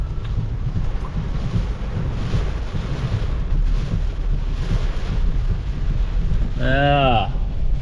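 Strong cyclone winds roar against the microphone at the Matron's Beach rock wall during Cyclone Jasper, a loud, continuous buffeting rush with surf-like noise, and a brief voice cuts in near the end.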